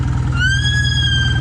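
Brakes on a classic BSA A10 motorcycle let out a sustained high squeal over the steady low rumble of the running engine, loud and close.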